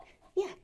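A puppy lets out a single short, high whimper, close and fairly soft, over a quiet background.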